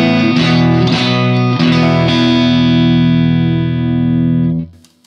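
Bass guitar played through an ambient modulated reverb setting on a Line 6 HX Effects unit: a few plucked notes swell into a thick, sustained wash that rings on for several seconds before cutting off, with no talking.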